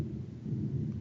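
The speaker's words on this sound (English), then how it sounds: "that lightning you heard is actually lightning from outside my house" Low rumbling thunder from a lightning storm outside a house, a steady muffled roll heard alone with no voices.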